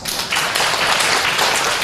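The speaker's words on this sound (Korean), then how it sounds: "우리 일본을 위해서 큰 박수 하겠습니다" Large audience clapping in a church worship service, a dense, loud burst of applause lasting a couple of seconds with no talk.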